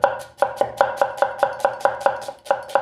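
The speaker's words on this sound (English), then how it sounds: "this knife is going to be good at cutting, it's going to be julienne onions like that" Yellow onions being julienned with a sharp 165mm nakiri knife on a cutting board, a steady run of about fourteen crisp, evenly spaced chops, close and clear with no talking.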